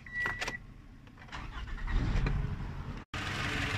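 A car engine cranks and catches after an ignition coil replacement on a misfiring cylinder, a short rough start settling into a steady idle close by.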